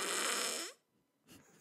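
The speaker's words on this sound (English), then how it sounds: "What was that? A fart sound effect?" A fart sound effect from a fart soundboard plays once: a loud, buzzy, drawn-out blast that trails off, followed by a short, fainter second burst.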